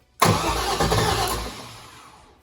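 A turbocharged LS engine swapped into a Dodge Grand Caravan cranks briefly and fires up with a loud sudden roar, then settles and fades toward idle, close to the microphone with no talk.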